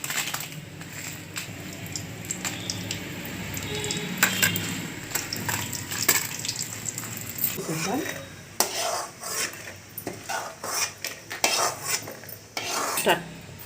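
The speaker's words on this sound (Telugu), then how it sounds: "వేడెక్కింది, ఎండుమిర్చి ఫ్రై చేద్దాం" Dried red chillies fry in hot oil for palak chutney, a low sizzle mixed with frequent clattering of a metal spoon against the pan, growing busier and more irregular toward the end.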